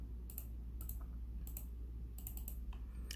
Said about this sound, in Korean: 컨트롤 쉬프트 I 반전하시고 딜리트 키 누르세요